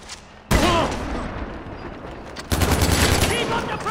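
Gunfire in Far Cry 4, two bursts of loud, close shots starting sharply about two seconds apart, each trailing into a rumbling mix of firing and background noise.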